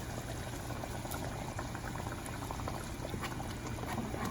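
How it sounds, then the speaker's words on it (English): Dal being added slowly to a boiling pot while making sambar, a steady bubbling boil with liquid pouring and filling sounds running continuously and close throughout. "you have to put the dal into the pot slowly, please"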